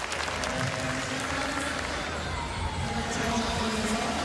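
Crowd applause fills an arena at the 2022 gymnastics world championships event finals, a dense, sustained clatter of clapping at an even level, with a commentator's voice faintly underneath.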